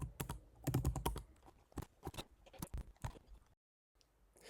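Typing on a computer keyboard while filling in contact details on a web hosting checkout form: close, uneven clusters of sharp key clicks with short pauses and a brief silence near the end.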